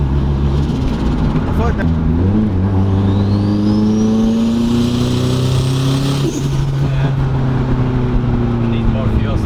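A boosted Nissan 240SX pulls hard through third gear on a street in Mexico, its engine note rising steadily and loudly from inside the car while occupants talk over it.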